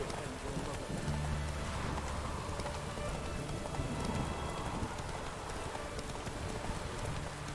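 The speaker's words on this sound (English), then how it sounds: "Come on, let my horse trot." Hooves of a horse trotting in The Witcher 3: Wild Hunt, rapid muffled clip-clop under a steady rain-like hiss, with faint background game sound.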